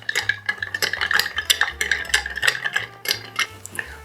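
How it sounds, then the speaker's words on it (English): Ice swirls in a mixing glass as a barspoon stirs an A La Louisiane cocktail of rye whiskey and absinthe, a steady run of close, light clinks and rattles in an even rhythm. "Give this a stir."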